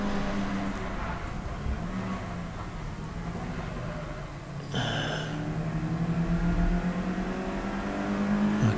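A race car on the Snetterton circuit in a GAZ Shocks 116 Trophy race sweeps past with a loud engine note, rising as it closes in and holding a steady drone as it goes by, with no talk.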